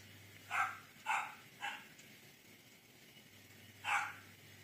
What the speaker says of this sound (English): She's just barking a lot.